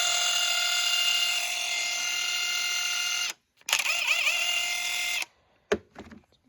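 A RIDGID 18V brushless subcompact impact wrench (R872081) runs in speed 1, giving a steady, loud, high whine for about three seconds. A short pause follows, then a second burst of similar length.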